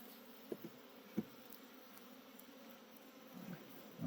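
Honey bees in an open hive at a Madison/Brown County apiary, late in the day with many bees home: a faint, steady low drone with a few soft knocks from the frames.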